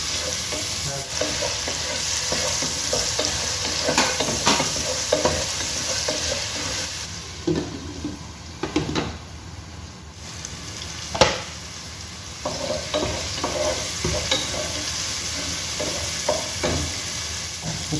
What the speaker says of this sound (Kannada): ಟೊಮ್ಯಾಟೊವನ್ನು ಸೇರಿಸಿ ಚೆನ್ನಾಗಿ ಫ್ರೈ ಮಾಡ್ಕೋಬೇಕು.